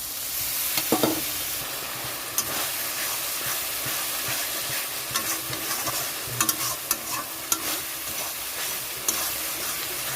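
Bengali spice masala with prawns being stir-fried after a splash of water, a continuous sizzling hiss with steam and repeated sharp clicks and scrapes of a spatula in the pan, with no talk.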